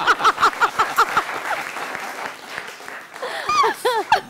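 Studio audience applause on a Pakistani TV comedy talk show, bursts of clapping opening strongly and then thinning, with shouts and voices rising over the tail end.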